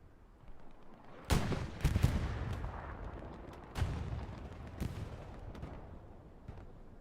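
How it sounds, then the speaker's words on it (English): Artillery fire in the Hell Let Loose video game at Omaha Beach, a few heavy booms spaced irregularly at mid-distance, each with a rumbling tail, over a low battle background. "Some artillery stopping them, but up here in the north."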